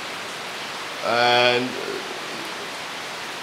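Rain falling on a Sunday morning after days of wet weather, a steady soft hiss throughout, with a brief spoken word rising over it partway through.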